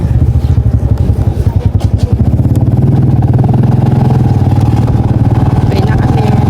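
A motorcycle engine drones steadily while being ridden, a loud, close, continuous low rumble with a pulsing beat. The pulse is uneven for the first two seconds, then settles into a smooth, even hum.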